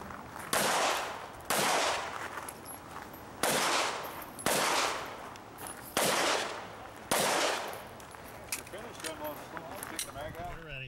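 Pairs of loud, sharp gunshots crack out in repeated bursts on a shooting range stage, each shot echoing, with a speaker talking over and between them.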